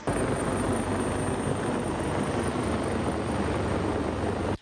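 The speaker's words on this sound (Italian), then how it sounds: "abbiamo visto l'elicottero sorvolare la zona" A helicopter flies over a search area along a canal between Dolo and Stra, its dense, steady rotor and engine roar loud and continuous throughout, with no speech over it.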